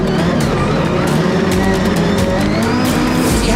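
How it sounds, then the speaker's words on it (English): Rallycross race car at full throttle on a mixed dirt and tarmac circuit, a loud, continuous engine roar with gravel spray and occasional tire noise, close and steady throughout. "you can see Travis Pastrana going for that Yokohama Tire Joker lap"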